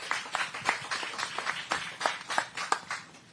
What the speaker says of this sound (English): Big round of applause for these warriors up here